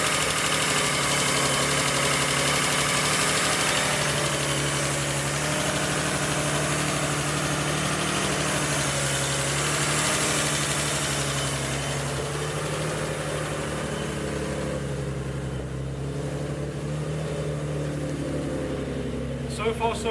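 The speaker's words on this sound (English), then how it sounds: "Okay, she's running, but she's doing this." Mitsubishi GTO engine idling after camshaft oil seal work, a continuous close mechanical rumble with a steady low hum and slight roughness.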